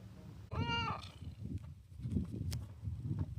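A cat meows once at a campsite in Gila National Forest, New Mexico, a short tonal cry near the start, followed by soft low rustling and handling sounds.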